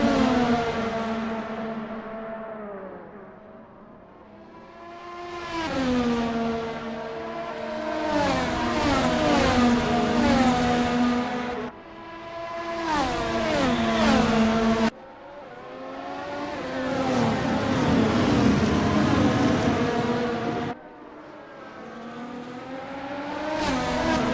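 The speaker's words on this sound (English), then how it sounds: "Love the way these cars sound. They sound so amazing." Race cars at the Nürburgring circuit scream past in waves, engines revving up and down through gear changes, loud and continuous with several cars following one another close by.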